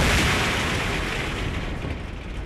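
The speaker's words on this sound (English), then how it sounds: "A controlled explosion." A homemade roadside bomb is set off in a controlled explosion, a loud broad rumbling blast that fills the air and slowly fades into a long, rough roar.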